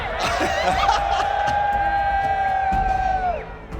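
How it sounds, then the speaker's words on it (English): A large arena crowd at the Rocket League World Championship cheers and whoops over a sustained high whistle-like tone, loud and continuous, tapering off at the end. "I absolutely love this crowd."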